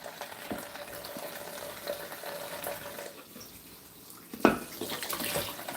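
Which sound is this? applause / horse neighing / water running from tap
water running from tap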